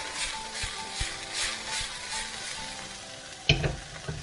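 Vegetables dressed with chili garlic sauce sizzle and fry in a pan, with soft rhythmic scraping and tossing sounds and a sharper clatter near the end, no voices.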